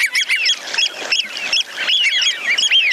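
Several wigeon whistle and call in quick succession, overlapping high piercing notes close by with a steady background murmur of more birds.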